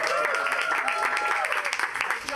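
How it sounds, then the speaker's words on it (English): An audience rehearses a big round of applause at a comedy show, with dense, steady clapping and cheering mixed with voices throughout. "let's give a big applause. Let's try this out."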